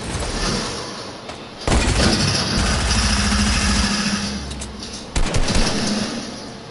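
Video game gunfire with loud automatic bursts and a rumbling engine-like background, sharp shots starting abruptly twice and trailing off, no voices over them.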